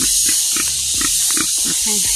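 A pig grunts repeatedly while being fed, its close, rough snorts coming in quick bursts over a loud, constant hissing background.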